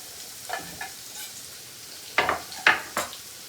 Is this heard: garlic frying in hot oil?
yes